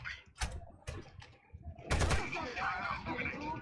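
Gunfire in Rainbow Six Vegas 2: several sharp separate shots early on, then a rapid automatic burst near 2 seconds trailing into echoing game noise.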